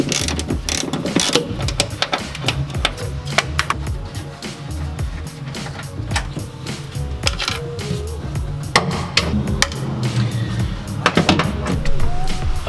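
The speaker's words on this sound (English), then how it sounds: "So I'm gonna go ahead and take those nuts off" A ratchet rapidly clicks loose the nuts on the exterior of a Nissan 240SX S13, its pawl chattering in repeated close bursts with metallic clinks between them.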